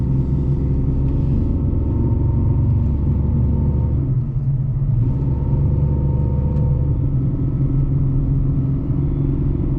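A Chevy Colorado pickup fitted with a cold air intake drives along, its engine giving a steady, loud low rumble mixed with road and cabin noise, holding nearly constant with a slight dip midway.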